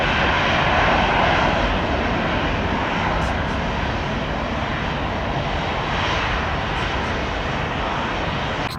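Airbus A319 airliner at Tampa airport, its engines producing a loud, steady roar that fills the whole stretch without break, broad and rushing, with no voices over it.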